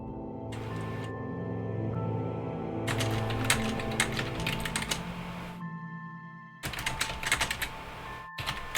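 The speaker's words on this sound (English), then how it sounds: "I'm typing out what Renwick will respond with." Rapid clicking of keys on a computer keyboard patters in bursts over a steady musical background, close and clear.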